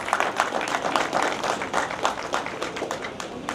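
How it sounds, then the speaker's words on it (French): Audience applause for blood donors at a World Blood Donor Day ceremony, a steady wash of many hands clapping at moderate loudness throughout, with no talk over it. "Je voudrais donc que vous les applaudissiez."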